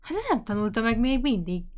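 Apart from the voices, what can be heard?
No everyday noise stands out behind the speech.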